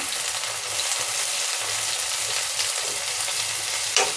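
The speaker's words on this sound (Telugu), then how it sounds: "ఉల్లిపాయలు బాగా వేగనిద్దాము పచ్చివాసన పోయేదాకా" Chopped onions fry with crushed ginger and garlic, a dense, even sizzle that runs unbroken and loud throughout, with a brief sharper crackle near the end.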